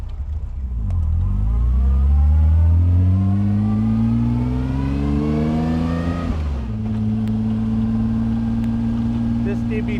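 A 1956 Aston Martin DB3S-R sports car drives on Long Island roads in summer, its engine loud and close, revving up through rising harmonics before dropping pitch and settling into a steady drone.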